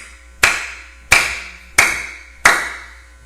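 Four single sharp hand claps ring out clearly at an even, slow pace, each with a short decaying tail, with no talk over them.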